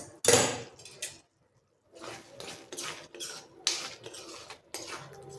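Steel plate used as a lid clanks and scrapes as it is lifted off a cooking pot of desi black chana curry, a sharp metallic clatter followed by several lighter knocks and rattles nearby.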